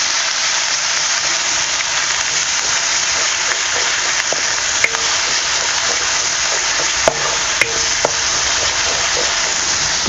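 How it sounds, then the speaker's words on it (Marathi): Ground masala paste for chole sautés in a pan with a constant dense frying hiss and a few faint spatula taps, close and fairly loud. "आपण ह्यामध्ये इकडे आपण मसाला बारीक करून वाटून घेतलं होतं ना ते घालायचं आणि हे मसाला आपल्याला चांगला आहे ना परतून घ्यायचं"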